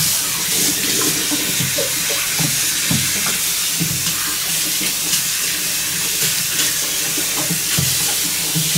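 Tap water runs steadily and fairly loudly over a rubber boot being rinsed, with a constant hissing splash and small irregular knocks as the boot is turned and handled under the stream.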